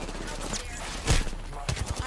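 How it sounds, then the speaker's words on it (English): Video game gunfire crackles in short, sharp bursts around the middle and near the end, with a busy game soundscape running underneath throughout. "Jeez, I'm missing all my fucking shots."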